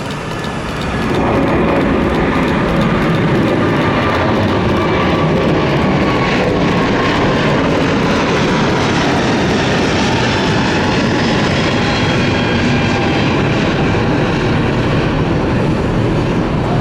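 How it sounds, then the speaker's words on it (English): A Virgin Atlantic Airbus A350-1000 takes off at Atlanta, its loud, sustained jet engine roar rising almost at once and holding steady, broad and powerful, with a gradually shifting whine as the aircraft climbs away. "Virgin A35K."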